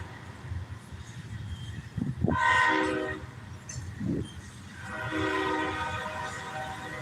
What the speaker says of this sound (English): That train looked like it said Nick on it